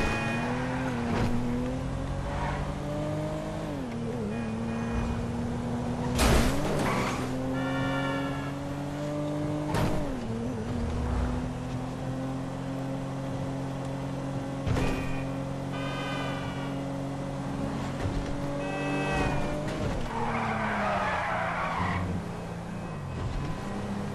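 Video game car racing along with a steady engine drone and brief rising squeals of tires skidding across the surface, all fairly loud and close, with no talk.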